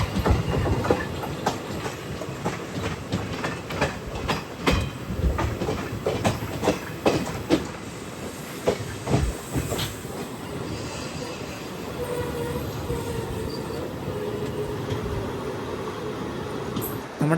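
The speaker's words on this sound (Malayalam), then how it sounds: "നമ്മുടെ പാസഞ്ചർ ഇപ്പോൾ അമരവിള എന്നൊരു സ്ഥലമൊക്കെ കഴിഞ്ഞ് മുന്നോട്ട് പോയിക്കൊണ്ടിരിക്കുകയാണ്" Kollam–Nagercoil passenger train on a single-line track in Kerala, heard from on board: steady rumbling wheel noise with repeated clickety-clack rail-joint knocks and occasional squeals, continuous and close, no talking.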